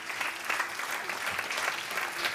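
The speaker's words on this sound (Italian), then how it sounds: "Eccolo là in seconda fila, un applauso" A conference audience at a chamber of commerce event in Frosinone claps steadily, a dense, even patter of many hands filling the room throughout.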